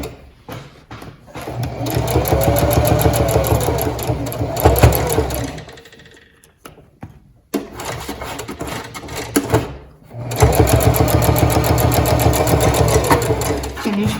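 Sewing machine stitching fabric for a zippered pouch: close, rapid mechanical chattering in two long bursts, slowing and pausing midway for a pivot at a corner, then resuming with a back stitch.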